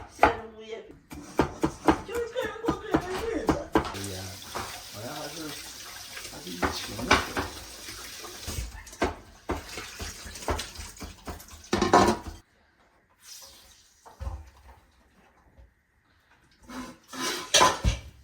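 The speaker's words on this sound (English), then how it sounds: "He's prepping meat and washing veggies" Meat is chopped on a board and vegetables are rinsed under a running sink tap in a home kitchen. Brisk knife knocks and dish clatter come first, then gushing water, with a voice talking over parts of it.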